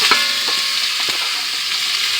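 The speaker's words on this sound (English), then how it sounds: "I want to sear it up." About a pound of beef stew meat seasoned with salt, pepper, onion powder and garlic powder sears in a hot pan, a loud, close, steady sizzle broken by a few brief scrapes as pieces are moved.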